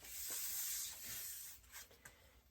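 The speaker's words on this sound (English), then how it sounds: "I'm taking a little Scotch-Brite here just to clean the bases off a little bit" A Scotch-Brite pad scrubs the bases of skis being cleaned for summer storage, a soft, close rasping rub in a few strokes that grows fainter and more broken toward the end.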